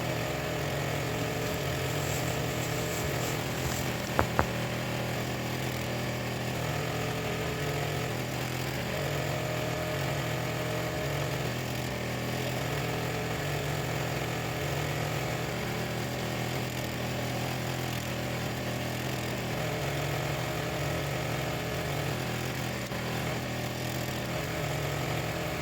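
A Champion 34-ton log splitter engine runs steadily while splitting firewood, a constant droning hum with no clear breaks, moderately distant.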